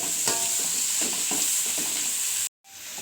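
Onion and tomato fry and sizzle steadily in a pan while a spoon stirs them in soft scraping strokes, a close, continuous hiss that cuts out abruptly near the end.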